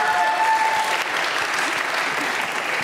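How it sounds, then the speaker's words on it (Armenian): Steady audience applause for a woman at a comedic event, dense continuous clapping filling the whole stretch at an even level with no talk over it. "Ծափարենք Տիկին Սոնյային"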